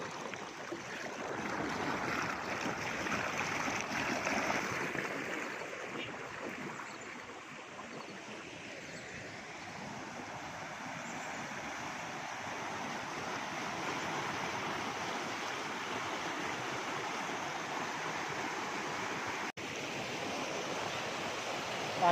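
Stream water flowing over a road bridge in Phanasgaon, Konkan, a steady rushing wash that is faint and continuous, slightly stronger at first, with no talk.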